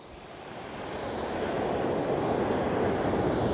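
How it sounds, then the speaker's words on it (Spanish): Ocean surf rolls onto the beach at Río Gallegos, a broad hissing wash that swells gradually louder, mixed with wind buffeting the microphone. "Está la playa."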